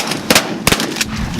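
Shotgun blasts during a goose hunt in Wisconsin, three loud sharp reports about a third of a second apart, close by and ringing out with no talk over them.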